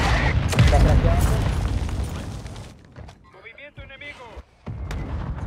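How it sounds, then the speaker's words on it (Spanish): A mortar strike in Call of Duty Warzone 2 brings heavy artillery booms and rumbling blasts, loud at first and then fading. Players talk over the explosions. "Viene nuestro ataque de mortero."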